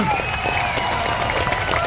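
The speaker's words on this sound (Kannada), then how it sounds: "ಚಪ್ಪಾಳೆ ಮುಖಾಂತರ ಸ್ವಾಗತಿಸೋಣ" An audience applauds a visiting leader from Andhra Pradesh arriving on stage at a home guards' event in Bengaluru, a brief dense wash of clapping with crowd noise over roughly two seconds.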